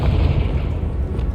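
A Confringo blasting spell detonating in the video game Hogwarts Legacy: a single loud, deep, rumbling boom that fills the moment with heavy low-end roar.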